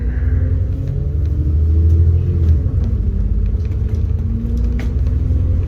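An X96 bus pulls away from the Wollaston Farm stop, its engine giving a loud, steady low rumble that swells and then holds as it accelerates. Nobody speaks.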